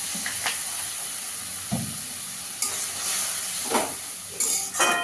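Spiced masala for a Bengali egg and pointed gourd (potol) dish sizzles and fries steadily in a pan, with a constant hiss and occasional louder stirring scrapes; no talking.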